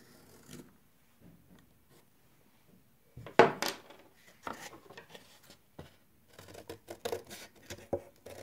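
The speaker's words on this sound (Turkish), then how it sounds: "Evet, bu şekilde kestim." Scissors cutting a circle of fabric (etamine) for a handmade decoration, close snipping and rustling in short irregular bursts, with quiet handling sounds before and light clinks and fabric noise after.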